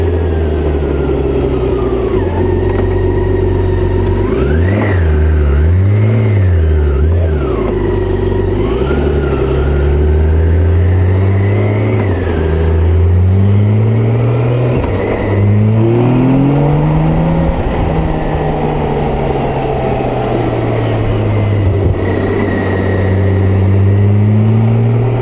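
A 2022 BMW K1600GT touring motorcycle rides at speed with a loud, steady engine drone and wind rush, its pitch rising and falling with throttle changes; no distinct driveline clunk stands out.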